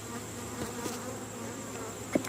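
Honey bees buzz steadily at an open hive during an August inspection, a continuous close, even drone with a faint knock near the end and no talking.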